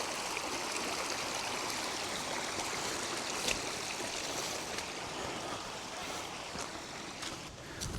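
Trail stream crossing near an old mine power plant foundation, a steady broadband rush and trickle of flowing water close by, continuous and even for the whole stretch with no voices.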